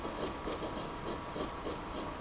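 A Great Western steam locomotive pulling Maunsell coaches in the Railworks train simulator on the Minehead to Bishops Lydeard line, chuffing in a steady rhythmic pattern over a constant hiss of steam.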